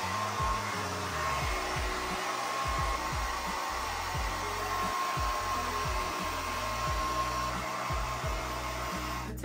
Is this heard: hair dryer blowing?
yes